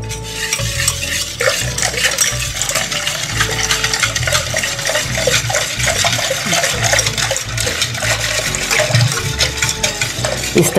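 A spoon stirs a thin batter of curd, millet flour and water in a pot for Rajasthani bajre ki raab, giving a continuous rhythmic scraping and sloshing, close and steady, with no talk.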